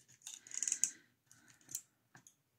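Package being cut open with scissors during a diamond painting craft-kit unboxing: a few quiet snips and rustles in short bursts, close and soft, with no talk.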